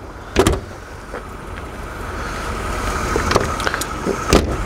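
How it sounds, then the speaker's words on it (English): A classic car's bonnet being released and lifted, with a few sharp latch clicks and clunks standing out from steady background hum, heard close up and without talk. "Pop the bonnet, see what's going on under there."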